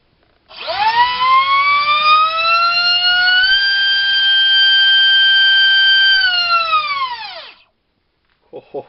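An EMAX RS2306 2750kv drone motor on 6 cells spins up to a loud, piercing high-pitched whine, holds steady for several seconds, then winds down.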